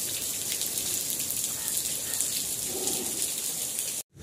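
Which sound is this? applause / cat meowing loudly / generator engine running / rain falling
rain falling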